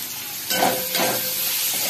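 Onions frying in a pan with salt and chili flakes, a steady loud sizzle with brief stirring scrapes, no voices.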